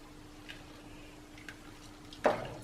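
Citric acid being stirred into elderflower cordial, with a few faint spoon clinks and taps against the pot, spaced out, ending in one louder knock, under a steady quiet hum.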